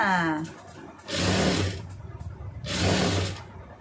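Sewing machine stitching a round neckline on a garment, running in two sustained bursts of a few seconds each with a short pause between, fairly loud and close, with a voice talking over it.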